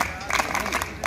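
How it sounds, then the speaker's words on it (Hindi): Crowd clapping at a district-level school sports competition, a short burst of scattered applause close by, mixed with voices. "सभी लोग तालियां बजाते रहें"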